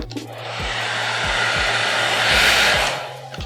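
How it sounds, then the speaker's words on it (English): A blow dryer roars steadily with a broad airy whoosh, swelling slightly louder midway, with faint periodic low thumps beneath it. "grab your blow dryer"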